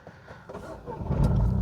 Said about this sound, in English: Let's get the engine running.